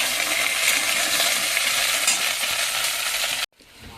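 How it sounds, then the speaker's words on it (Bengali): Potato pieces for a rohu fish curry fry in hot oil, a loud, dense sizzle heard close up for about three and a half seconds before it suddenly drops to a much quieter hiss. "এবারে মাছের আলুটা লাল লাল করে ভেজে নিচ্ছি"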